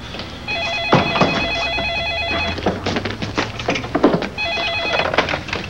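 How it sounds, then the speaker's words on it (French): A telephone rings in an office, two electronic trilling bursts separated by a pause, with thumps and rustling activity in between; no talk over it. "Vous pourriez répondre au téléphone?"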